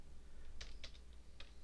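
A few crisp, quick keystrokes on a computer keyboard while typing code in Microsoft Access, sounding as faint, scattered clicks with short gaps between them.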